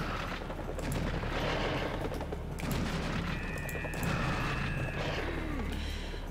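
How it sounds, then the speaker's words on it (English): Rapid shotgun blasts and chaotic combat noise from the video game Serious Sam HD: The First Encounter, repeated booming shots layered over busy game sounds at moderate level. "let's get out the fast shotgun."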